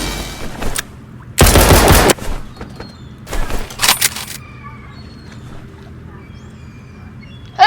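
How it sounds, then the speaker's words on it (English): Automatic gunfire in a video game bursts loud and dense in two short volleys, followed by quieter scattered game sounds over a low hum. "why do people keep auto shooting like that?"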